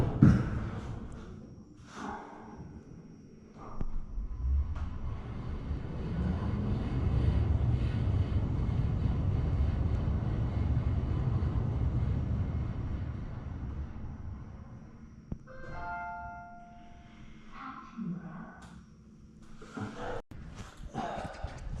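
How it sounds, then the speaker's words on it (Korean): A strong wind blows across an outdoor spot before a run, giving a long, loud, low rushing roar that builds and holds for several seconds, then eases off. Brief talk and breathy sounds come before and after the gusts. "바람이 매우 강하고"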